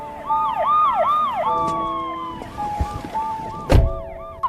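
A police car siren wails in repeated rising and falling sweeps, then shifts to a steadier, drawn-out tone as the car pulls out of a residential complex. A sharp knock cuts in near the end.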